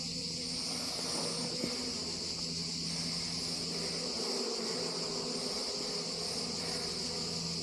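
Honey bees buzz steadily and densely around an opened beehive during an inspection in Nairobi, a continuous close drone with no talking.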